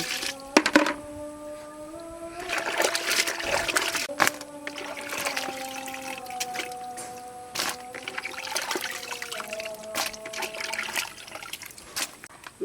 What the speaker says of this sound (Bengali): মাছটা এখন ধুয়ে নেব